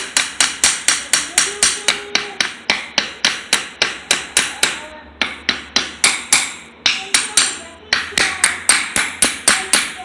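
Carburetor parts from a Yamaha XS1100 struck with the back end of a screwdriver, a rapid run of sharp metallic taps with ringing overtones, close and loud, briefly pausing mid-run before resuming.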